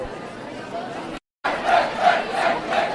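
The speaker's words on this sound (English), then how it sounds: "there's random cheering and shouting" A crowd cheers and shouts in bursts, rising into rough waves of yelling after a brief silent break, moderately loud and somewhat distant.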